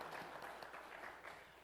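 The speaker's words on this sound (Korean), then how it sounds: "우리 박수로 환영하고 잘 힘내시라고." A church congregation at a Sunday worship service claps to welcome a member, a soft, fairly steady patter of hands from a modest group, heard at a moderate distance without voices over it.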